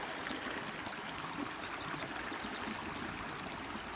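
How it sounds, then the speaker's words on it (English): A creek stream flows with a soft, constant wash and trickle, quiet and unbroken throughout. "the main stream is over there, and the water's going down fast."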